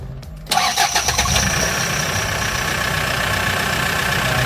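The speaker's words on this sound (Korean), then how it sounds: "이제 시동을 한번 걸어보도록 하겠습니다" A 2005 Kia Bongo 3 double-cab diesel truck with manual transmission cranks briefly and fires at close range, then settles into a steady, clattering idle that runs without pause.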